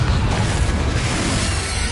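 A Confringo spell explodes in Hogwarts Legacy, a loud, deep booming blast with heavy low rumble that fills the whole two seconds without a break.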